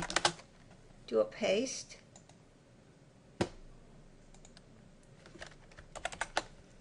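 Code is typed on a computer keyboard in scattered quick bursts of crisp key clicks with pauses between, while someone talks quietly in between.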